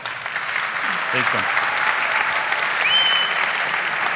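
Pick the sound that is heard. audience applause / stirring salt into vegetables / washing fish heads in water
audience applause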